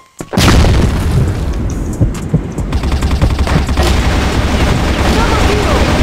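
A flashbang grenade goes off with one loud, close boom in the shooter game CrossFire, followed by a sustained high ringing roar that lasts several seconds.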